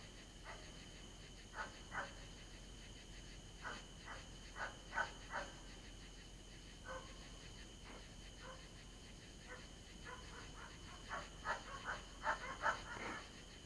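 Neighbours' dogs bark at night, distant and faint, in scattered short bursts and clusters of yips over a quiet background hum, with no voices.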